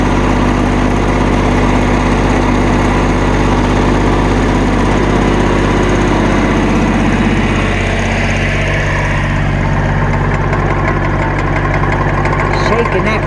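A lawn mower engine converted into a seed and fertilizer spreader runs steadily and loudly throughout, a constant droning motor with rattling, holding an even level from start to finish.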